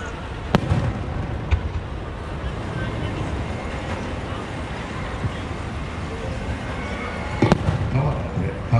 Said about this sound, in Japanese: これは開いた花の滝で紅、そして銀色に変化するという花火です。